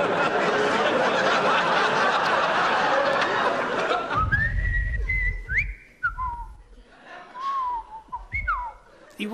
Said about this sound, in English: I will now whistle the soliloquy from Hamlet.